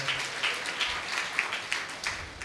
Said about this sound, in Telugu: గట్టిగా చప్పట్లు కొడుతూ దేవునికి మహిమ చెల్లిద్దామా?